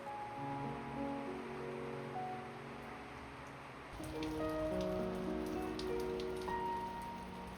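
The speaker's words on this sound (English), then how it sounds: "enjoying the sound of rain instead of the sound of sirens" Rain falling steadily outside a home in Israel, a soft continuous patter that grows a little denser and brighter partway through, with some faint tonal background sounds mixed in and no voices.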